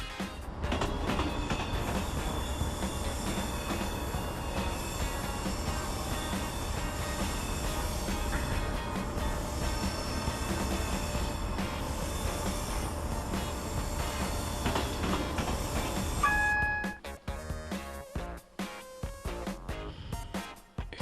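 A video game train in Train Simulator 2015 rumbles steadily with a continuous mechanical drone, and a brief squeal near the end before the sound drops away into uneven clunks.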